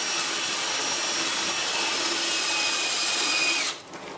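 A power drill fitted with a paint mixer attachment stirs food in a kitchen, giving a steady, loud whirring grind that runs for over three seconds before cutting off abruptly into quiet room tone.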